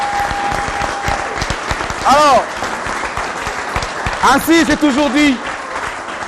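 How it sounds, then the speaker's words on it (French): An audience at a comedy show applauds in a steady, dense patter, while a voice speaks over it with rising, animated tones and a brief tone sounds early on. "On applaudit très fort pour Moutalika s'il vous plaît"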